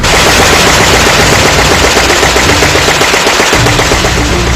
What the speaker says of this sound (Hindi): देखिए जमीन पर खड़ा F-35 कैसे अंधाधुंध गोलियां दागता है।